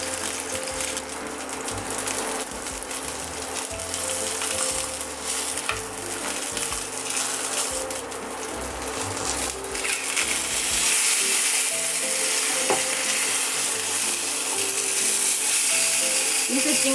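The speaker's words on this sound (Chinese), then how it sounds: "再给它用中火稍微开大一点点的火，把它稍微煎一下，把它煎到脆为止。" Salmon fillet pan-frying skin side down over medium heat until crisp, with ginger; a loud, steady oil sizzle and crackle runs throughout with faint stirring and scraping.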